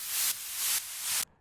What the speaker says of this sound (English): These are just some downlifters, side-chained white noise